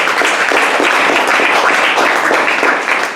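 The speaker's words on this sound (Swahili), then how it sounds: "nitakuomba tu nisaidie makofi na vigegele na kupeperusha mikono" Church congregation applauding with ululation mixed in, a dense, steady wash of clapping and high trilling voices that holds loud for about three seconds before easing slightly at the end.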